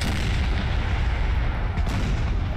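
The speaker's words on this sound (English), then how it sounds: "That's 8 12-pounder cannons. They're all pointed this way." Twelve-pounder cannon batteries fire in the Napoleon Total War video game, a steady dense rumble of artillery with a sharper report near the end, loud and continuous with no talk.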